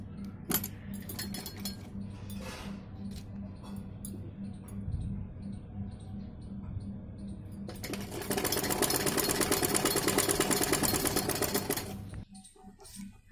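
A sewing machine stitches the neckline of a long gown cut from an old saree. A slow rhythmic hum and clatter runs at first, then speeds into a loud, dense whir before stopping abruptly.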